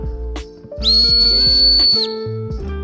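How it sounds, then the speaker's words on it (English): An emergency whistle built into a GPCA GP-1945 bolt action pen gives one shrill, steady blast of about a second, loud and close, over low background music. "You can actually unscrew that little breaker, and then you have an emergency whistle"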